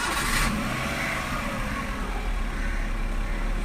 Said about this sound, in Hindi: अब मैं दिखाता हूँ आपको गाड़ी स्टार्ट करके इसका साउंड